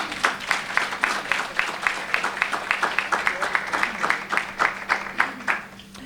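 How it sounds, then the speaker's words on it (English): An audience at a health-system conference applauds a medical team, with even, rhythmic clapping from many people in a hall, moderately loud and sustained throughout. "If you could just please give them a round of applause."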